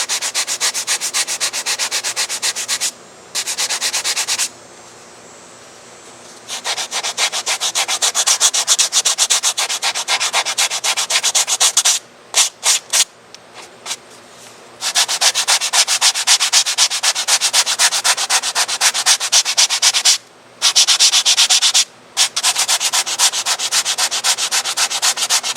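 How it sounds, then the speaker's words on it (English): Spackle on an RC Emirates 777-9X airliner model is sanded by hand in long continuous rasping strokes, loud and close, broken by several short pauses and a couple of quick rapid scrubs. "then give it one last sanding"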